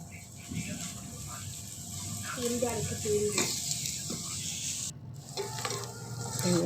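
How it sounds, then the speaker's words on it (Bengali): Onions frying in a pan at home, a continuous soft sizzle with stirring scrapes and occasional clinks, under intermittent talking. "আমাদের ভাজাভুজি চলছে"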